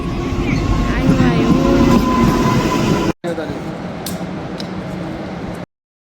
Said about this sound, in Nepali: ट्रेन आइपुग्यो।